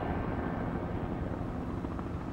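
A helicopter flying away in the video game Final Fantasy 7 Rebirth, a continuous low rotor rumble and whine heard loud and steady, with no voices.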